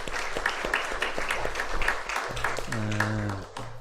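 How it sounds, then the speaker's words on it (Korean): A church congregation at a university chapel service claps in encouragement, a scattered sustained patter of hands, moderately loud, with a sustained musical tone entering near the end. "격려의 박수 하겠습니다."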